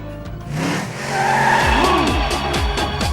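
Racing cars in a Dreamcast driving game, with Minis and Alfa Romeos, roar past with sweeping engine pitch and loud tyre squeals and skids. The sound is dense and continuous, with no speech.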